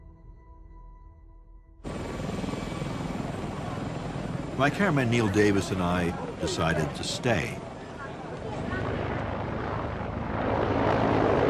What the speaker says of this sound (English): We saw the last helicopter leave from the roof.